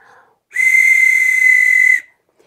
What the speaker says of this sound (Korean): 호루라기를 길게 불면